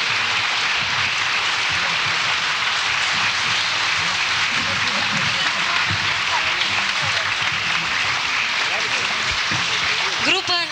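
Sustained applause from a concert audience at a 1990 festival of Afghan-war songs in Yaroslavl, a dense, even wash of many hands clapping for the full stretch.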